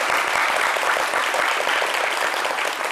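A studio audience at a talk show bursts into dense, steady applause, loud and continuous for a few seconds without speech over it.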